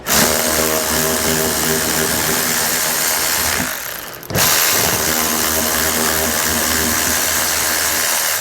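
A power socket tool on a 2018 Ford Edge runs loud and close with a continuous whirring drone, cuts out briefly partway through, then starts again and keeps running, with no voices.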